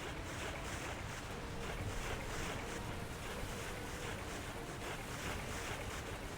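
A waterfall in the video game Xenoblade Chronicles X: Definitive Edition gives off a constant, dense rushing roar with a faint rhythmic pulsing, unbroken and without speech.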